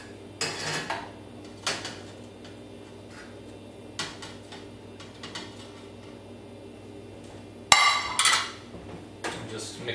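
Gnocchi are stirred into a creamy pesto sauce in a pan, giving sparse, faint scrapes and clinks of a utensil against the pan with one sharper clatter near the end.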